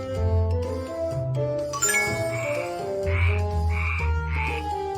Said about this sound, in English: The frog can sing like this. Croak, croak, croak, croak.